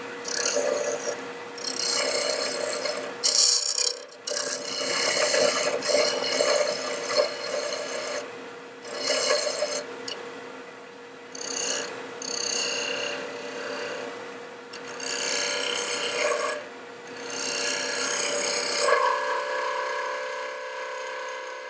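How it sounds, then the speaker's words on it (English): Wood chatters and rasps against a lathe tool while a bottle stopper is turned, vibration causing the cut to judder; a steady, fairly loud scraping drone with repeated bursts and brief pauses, no voices. "I'm getting a vibration someplace, and the vibration is causing a chatter right here."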